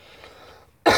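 A single loud cough bursts out after a quiet stretch, close to the microphone, from someone whose juice went down the wrong way.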